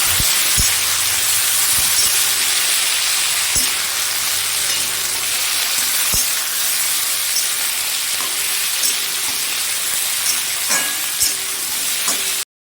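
Tomato frying in a pan with oil and being stirred, a loud continuous sizzle with periodic scraping and clinking of the spoon against the pan.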